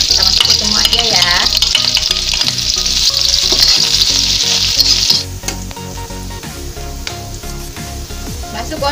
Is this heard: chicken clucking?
no